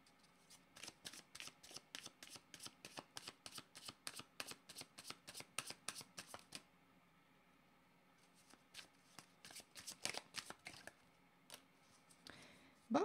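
A deck of tarot cards is shuffled again and again in quick, rhythmic riffles. The crisp flutters come close and clear, pause briefly near the middle, then carry on.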